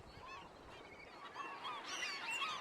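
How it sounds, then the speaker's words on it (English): Geese honk loudly and continuously as a flock rises into the sky, many overlapping calls forming a dense, noisy chorus close by. "A flock of birds noisily rose into the sky."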